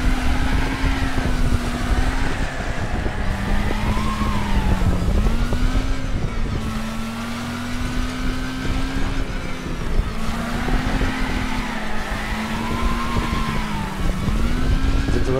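Engine roar of a damaged car racing in Wreckfest, held steady and loud for the whole stretch, its pitch rising and falling as it accelerates, with a harsh scraping grind layered underneath.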